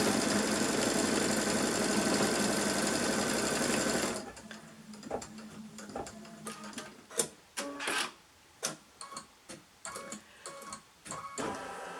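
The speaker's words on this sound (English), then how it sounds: "just going to stitch all the way along, create a seam." A sewing machine stitching a seam runs loud and steady for about four seconds, then stops, followed by quieter clicks and mechanical knocks as the fabric and needle are adjusted.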